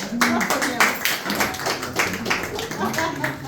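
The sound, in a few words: audience clapping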